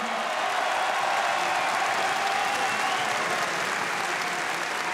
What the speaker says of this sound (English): j'ai envie de refaire des applaudissements pour cette guerre exceptionnelle que vous avez livrée